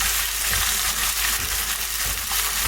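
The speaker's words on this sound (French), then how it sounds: "on va laisser mijoter ça tranquillement" An endive and sausage fondue thickened with cornflour simmers in a pan. A dense, loud bubbling and sizzling runs without a break.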